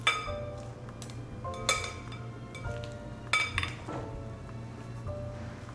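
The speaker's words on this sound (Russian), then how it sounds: "А теперь салат просто перемешиваем." Salad tossed and mixed in a bowl in a restaurant kitchen, with a handful of scattered clinks of utensils against the dish over a low steady hum, fairly quiet.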